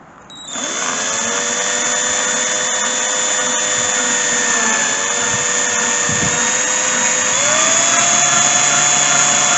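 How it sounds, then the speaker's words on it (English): A cordless drill with a 10mm bit whirs steadily at close range for several seconds, its motor pitch shifting slightly as it bites, with no talking. "So I've just got my cordless drill here with a 10mm drill bit."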